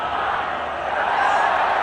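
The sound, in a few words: cricket stadium crowd cheering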